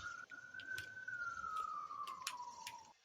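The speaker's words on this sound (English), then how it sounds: "I hear sirens." A siren wails faintly in a Super Smash Bros. Ultimate match: a single gliding tone rises and then slowly falls, with scattered sharp clicks and taps over it.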